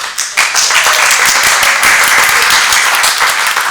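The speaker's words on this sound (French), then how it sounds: "Mesdames et messieurs, applaudissez pour notre finaliste Enito de la Croix-Huenne" Loud theatre audience applause for a finalist, dense clapping that swells quickly and holds steady for a few seconds without a break.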